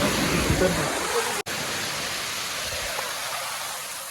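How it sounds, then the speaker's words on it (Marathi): Floodwater released through the opened gates of Bhatsa dam roars in a steady, loud rush near Sapgaon bridge, Shahapur, Thane, with a voice briefly heard early on. "पाणी बघू शकता किती पाणी आहे"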